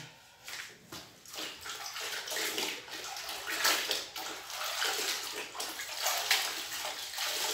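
Water sloshes and splashes steadily as a floor is rinsed during cleaning with Marseille soap; close, continuous swishing and pouring with no talk.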